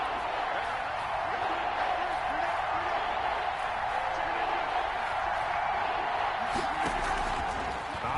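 An American football video game crowd roars in a constant, dense wash of cheering ahead of a big third down, and a commentator talks over it.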